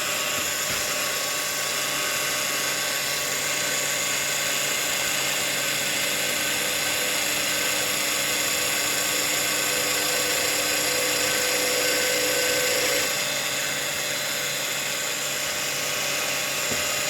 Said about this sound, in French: On va percer la pile de manière à la détruire.